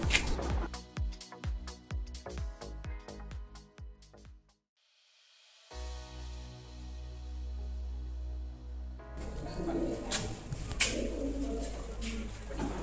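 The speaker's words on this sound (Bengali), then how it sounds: "যেখানে প্রচুর পায়রার বাস এবং কান পাতলেই পায়রার আওয়াজ শোনা যায়" Pigeons coo inside the main sanctum of a carved-pillar temple at a Gujarat world heritage site, soft and intermittent, with a burst of clicks early on and a brief quiet gap midway.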